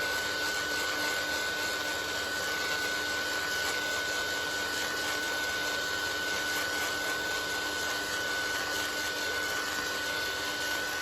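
A steady, loud whirring blow of a hand-held dryer drying paint on a painted book, running continuously with a faint high whine and no pauses.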